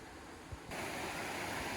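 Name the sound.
river flowing by Nantcol waterfalls campsite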